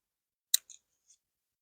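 Pruning clippers snip suckers off a tomato plant: one sharp close click followed by two or three softer, quick metallic snaps, otherwise quiet.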